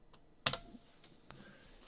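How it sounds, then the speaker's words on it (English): Computer keyboard typing a short word while working in Fusion 360 CAD software: a few quick close clicks, one sharper double keystroke followed by a couple of lighter taps, no talk. "I could either hit S on my keyboard and type in fillet"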